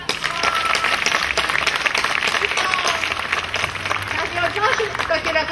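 A group claps together during a laughter yoga session, loud brisk clapping mixed with voices and lively crowd noise throughout.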